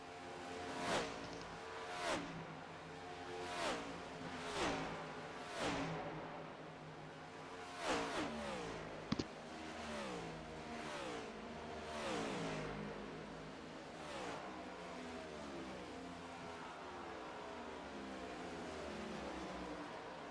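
Race car engines in a NASCAR racing game, cars repeatedly whooshing past with rising and falling pitch in a steady rhythm, a continuous high, singing engine drone underneath, faint and without talk.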